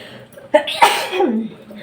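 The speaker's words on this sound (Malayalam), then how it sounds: "ആരൊക്കെയോ കുശുമ്പ് പറയുന്നത് തുമ്മാൻ വരുന്നു കേട്ടോ" A single sharp human sneeze, loud and close, with a short breathy lead-in and trailing exhale, made indoors in a home kitchen.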